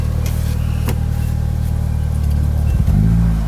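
A Mitsubishi Eclipse GST engine runs just after an EGR valve cleaning, holding a steady, fairly loud mid-pitched hum with a slightly high idle and a small shift in tone near the end.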